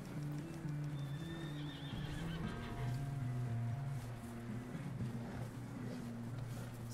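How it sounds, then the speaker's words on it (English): A horse in the video game Red Dead Redemption 2 gives a clear neigh over soft clip-clopping hooves, set against steady ambient outdoor game sound and music, fairly quiet overall. "Is this my horse?"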